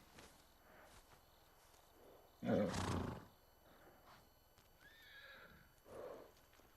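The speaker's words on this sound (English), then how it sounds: "Oh, we can't even get on the horse." In a video game, a horse gives a loud, close neigh midway, followed by softer hoof clip-clops and a second shorter whinny against a quiet ambient background.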